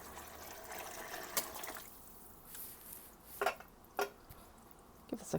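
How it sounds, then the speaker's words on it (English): Water poured from a measured litre into a one-pot chili pasta, a soft steady trickle and splash running for several seconds, fairly faint, with a few brief clinks and drips standing out near the end. "And now I'm going to add in 1 liter of water."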